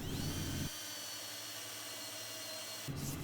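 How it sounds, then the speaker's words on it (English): A plug cutter in a power drill bores wooden plugs from face grain, a steady whirring grind running loud and alone through the middle of the clip, with louder low rumbling bursts at the start and end. "I'll drill the number that I need and pop them out."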